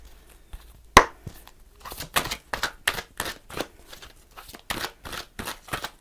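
Oracle cards are shuffled by hand for a reading, a close, crisp series of rhythmic riffling and slapping bursts repeating steadily with no talk.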